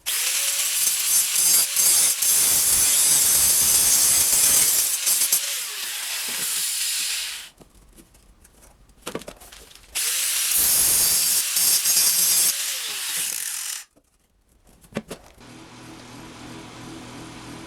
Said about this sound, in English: I'll go ahead and grind this down with my 4-inch metal grinding disc